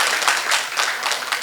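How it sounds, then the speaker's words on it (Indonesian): A church congregation at an Easter service claps in a quick, close burst of applause that fades slightly over a second and a half. "kalau mau tepuk tangan jangan ragu-ragu, tepuk tangan aja."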